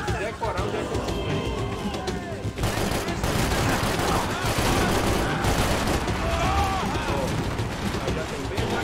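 Video game gunfire bursts out in dense, rapid volleys that continue for several seconds, with a voice talking over the shooting.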